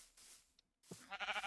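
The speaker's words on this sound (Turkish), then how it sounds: "Bir tane daha koyun gördüm tepede." Minecraft sheep bleating: a short, faint wavering baa after a brief soft noise and a moment of silence, heard alone with no talk over it.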